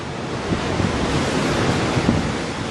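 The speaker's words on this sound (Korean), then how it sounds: "보는 이를 압도하는 희망봉의 거센 파도와 바람소리." Rough surf crashing continuously at the Cape of Good Hope, South Africa, with strong wind buffeting the microphone, a loud, steady roar of water and gusts.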